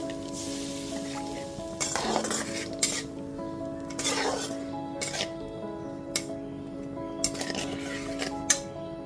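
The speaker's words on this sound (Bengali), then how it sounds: "তারপর গ্যাসের ফ্লেমটা মিডিয়ামে করে মশলাটা খুব ভালো মতো কষিয়ে নেব।" Spice paste being stirred and fried in a pan over a medium gas flame for a light rohu fish curry with potato and pointed gourd, a soft sizzle under repeated scraping and clinking strokes of a spoon against the pan.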